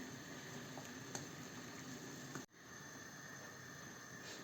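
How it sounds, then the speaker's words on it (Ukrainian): Water boils in a pot for varenyky dumplings, a steady close bubbling hiss with a brief dip midway when the dumplings are dropped in. "вода наша закипіла, я даю чайну лишку солі у воду і кидаємо наші вареники"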